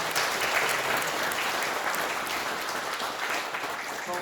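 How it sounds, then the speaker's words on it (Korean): Sustained applause from a large crowd at a Buddhist temple New Year ceremony, dense steady clapping at an even volume throughout with no voices standing out. "큰 박수 부탁드리겠습니다."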